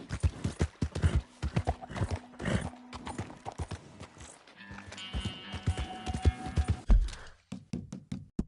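Hooves gallop in a fast clip-clop rhythm in Red Dead Redemption 2, near and loud, with a horse's whinny mixed in and a brief pause before the pounding resumes.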